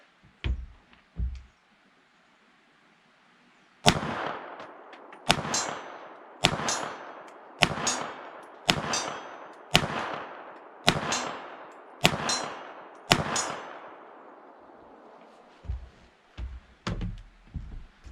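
A Smith & Wesson .380 Shield EZ pistol fires about ten sharp shots at a steel plate roughly 30 yards away, each crack followed by a ringing clang and a short decay, spaced about a second apart, with a few quieter clicks and knocks at the start and end.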